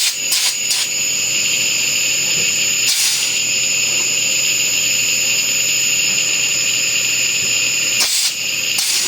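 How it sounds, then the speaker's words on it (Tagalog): Panasonic air conditioner outdoor unit with an H11 error, its fan running in a continuous loud whirring hum with a few sharp tool-like bursts mixed in. "Yung output ng fan, ito yan."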